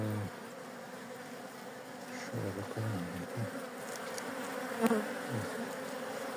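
Honeybees in a hive with many drones buzz continuously in a dense, humming swarm, close by, with a few louder passes and a brief quiet voice underneath.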